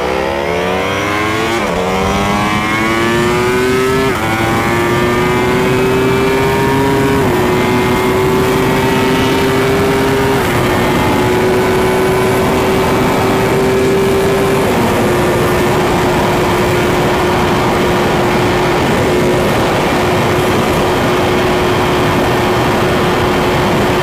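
An Aprilia RSV4 1100 Factory sport bike at full throttle, its loud engine howl climbing through several rapid gear changes, then holding a steady high-pitched scream at top speed, with heavy wind roar and no talk.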